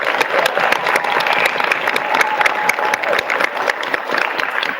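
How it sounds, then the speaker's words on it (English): A school event audience claps for a student's mother in loud, dense, sustained applause from start to finish. "can we give her a round of applause?"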